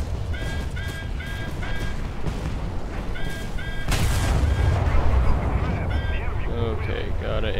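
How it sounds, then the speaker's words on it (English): Naval gunfire from World War II destroyer USS Cowell (DD-547) in War Thunder, heavy booms and rumbling shell fire thudding under repeated honking horn tones, with a large blast swelling midway, loud and dense. "They're shooting right over this guy."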